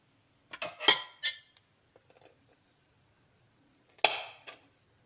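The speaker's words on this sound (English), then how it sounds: "I removed the stem from the green chili, and I'm going to cut this one into half like this" A knife cuts through a green chili on a board: a couple of crisp, close taps and slices with a quiet gap and soft handling noises between, then one more sharp cut, with no talking.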